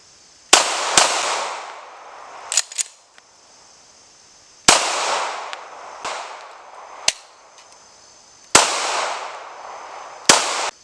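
Glock pistol shots ring out during a 500-round magazine reliability test, sharp close reports arriving in spaced clusters of two or three with gaps between strings, each followed by a brief decaying echo.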